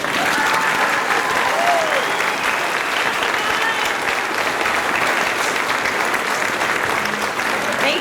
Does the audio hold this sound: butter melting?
no